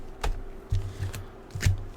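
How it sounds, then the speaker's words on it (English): Tarot cards are shuffled in three or four short, close riffling bursts, each a soft papery flutter with a light tap, under a low room hum. "we're going to be shuffling the cards for Ask Your Guide"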